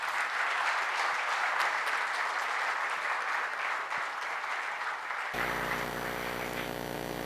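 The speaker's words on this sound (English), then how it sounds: "let's give him a big round of applause" Sustained audience applause at an evening event, a dense steady wash of many hands clapping for about five seconds before a sharp cut to a buzzing, hum-laden tone.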